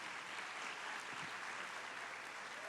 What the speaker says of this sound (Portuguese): Uma salva de palmas para o Dom Pedro Filmes